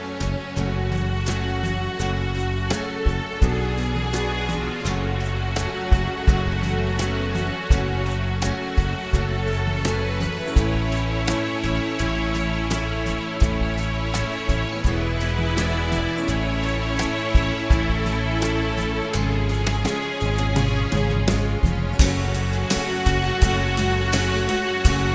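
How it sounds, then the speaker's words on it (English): A Ketron Event v4 arranger keyboard plays a lush string-ensemble patch, sustained chords layered over a steady backing with faint percussive ticks, continuous and full throughout, with no talking. "those strings are really beautiful"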